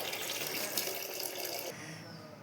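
Rice-washing water pours into a lidded container in a kitchen, a brief steady splashing gush that cuts off abruptly near the end, close by and moderately quiet.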